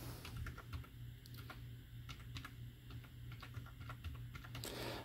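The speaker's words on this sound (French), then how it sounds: "je vais ouvrir un autre onglet et je vais taper l'adresse" Typing a web address on a computer keyboard, soft irregular keystrokes tapped in short bursts over a steady low electrical hum, close and quiet with no speech.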